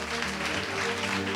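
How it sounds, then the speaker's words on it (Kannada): A church congregation at a Sunday service applauds in a steady, dense patter of clapping, with sustained musical tones humming underneath. "ಚಪ್ಪಾಳೆ ಬರಲಿ"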